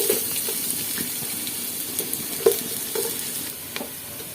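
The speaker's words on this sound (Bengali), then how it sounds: "পেঁয়াজের বেরেস্তা করে নেব।" Onions fry in oil and ghee for kacchi biryani, a soft, steady sizzle broken by light clicks and scrapes as the pieces are stirred, fairly close and quiet, with no talk.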